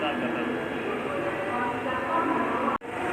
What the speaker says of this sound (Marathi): 1:23लाच येऊन पोचली ट्रेन.